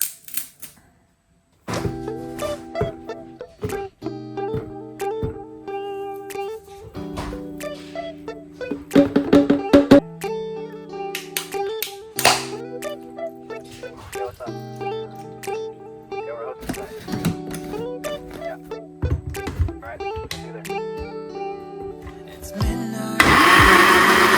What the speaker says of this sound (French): Dans un mixeur, je vais mettre une banane.